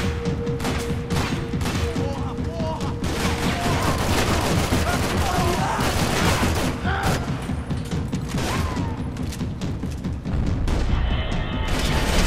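Rifle fire in the Max Payne 3 video game, a dense, continuous fusillade of game gunshots and crashing impacts running throughout, loud and busy with a heavier burst near the end.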